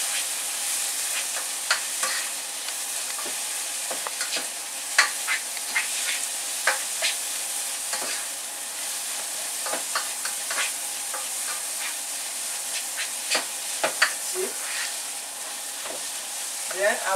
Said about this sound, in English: I continue to fry it with the egusi